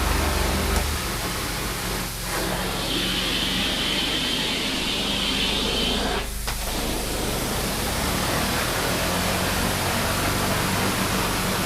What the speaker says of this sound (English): Sounds like an airplane propeller down there.